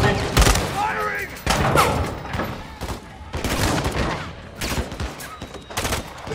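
Gunfire from Call of Duty Modern Warfare II: repeated loud bursts of automatic rifle fire and single shots, close and rhythmic, mixed with shouted combat voices and battle noise throughout.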